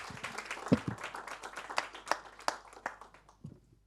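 Audience applause for four panel speakers at a francophone conference on AI and content discoverability, with sparse individual claps thickening into a loose ragged round that thins out and fades toward the end.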